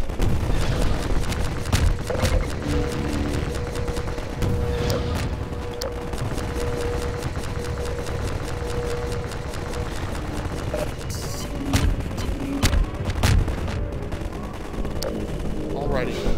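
Dense, loud gunfire fills a Half-Life 2 firefight, rapid repeated shots and booming blasts over a constant roar of action, with a player's voice talking through parts of it.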